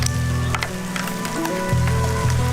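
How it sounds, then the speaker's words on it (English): Rain falls during a ride, a steady wash of hiss beneath a loud, droning low hum that shifts pitch a few times. "It's not nice riding in the rain."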